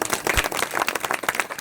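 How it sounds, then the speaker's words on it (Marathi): Audience clapping at a devotional kirtan gathering, a dense burst of many hands applauding together, close and lively, continuing steadily throughout. "तरुण मंडळीच्या नावाने एकदा जोरदार टाळ्या वाजवा"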